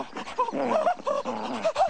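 A dog whimpers and yips in short, rising whines, fairly close, with several brief cries in quick succession and no speech.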